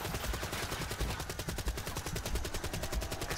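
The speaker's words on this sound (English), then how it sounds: "It was a ray gun." Rapid, steady bursts of energy-weapon fire from a ray gun in Call of Duty Black Ops 3, repeating in a fast even rhythm over dense game noise, with no voices.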